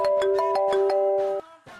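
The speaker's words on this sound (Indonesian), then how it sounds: "Dia telepon. Dengar ya bang suaranya." Mobile phone ringtone for an incoming call, a bright repeating melodic chime of several quick tones that cuts off abruptly near the end, followed by a faint pause.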